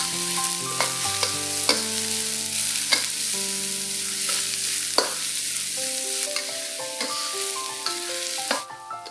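Shallots and garlic frying in a pan for curry fish balls give a close, steady sizzle with spatula stirs and scrapes throughout. A sustained tonal hum runs underneath, and near the end the sizzle drops away sharply. No one speaks.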